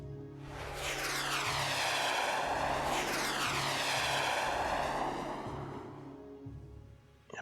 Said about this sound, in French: on va faire intervenir les rafales